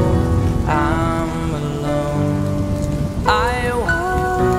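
Steady rain patters across a surface, laid under a sung pop ballad with sustained vocal and instrumental tones over the constant wash of falling drops.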